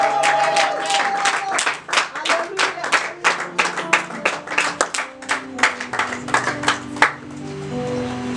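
Church congregation clapping rhythmically in unison to acclaim the Lord as a prophet and a doctor enter, sharp regular claps close and loud with a faint sustained tone and voices underneath, fading near the end.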